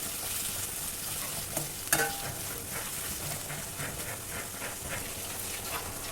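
Finely chopped brinjal with onions and green chillies stir-frying in oil makes a soft, continuous sizzle, with a sharp utensil knock near the start and faint scraping strokes after it.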